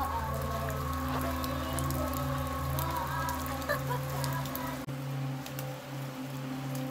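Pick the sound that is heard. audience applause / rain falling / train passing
rain falling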